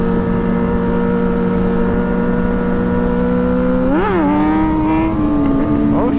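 A motorcycle engine revs during a wheelie on a road, holding a loud steady drone near the listener, then rising and surging in pitch for a moment before settling and wavering again. No voices.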